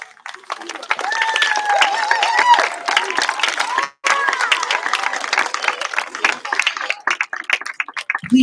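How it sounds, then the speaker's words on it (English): Audience applause for room parents called up on stage at a fifth-grade school promotion ceremony, steady dense clapping with a brief gap midway, mixed with crowd noise and some talking over it. "Please give these parents a round of applause."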